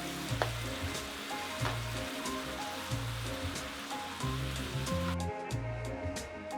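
Kimchi stir-fried on high heat with sesame oil and gochugaru sizzles steadily in a pan, with dense frying crackle and repeated scraping stir strokes that rise and fall throughout, fairly close and without voices.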